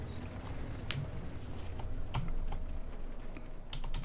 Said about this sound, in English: Is my keyboard sticky?